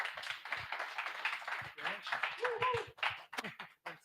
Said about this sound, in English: So please give a big round of applause to Paul.